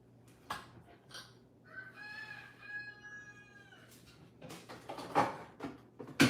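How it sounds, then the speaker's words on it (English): A rooster crows once in a drawn-out call, with scattered clucks and rustling before and after in a quiet setting. "My rooster, hear my rooster."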